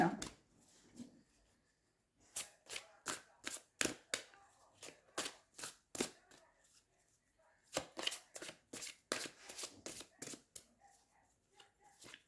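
Tarot cards shuffled by hand in repeated bursts of crisp riffling flicks, close and fairly loud, with short pauses between runs and no talk over them.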